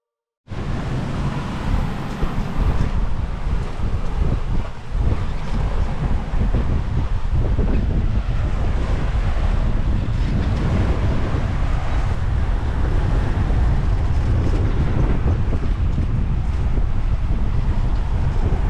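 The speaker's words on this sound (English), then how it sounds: "We got the wind at a beam a little bit aft of our beam." Strong wind roaring across a sailboat at sea on a beam reach, with the wind slightly aft of the beam, a loud steady rush and buffeting mic noise sustained throughout, with sea wash underneath.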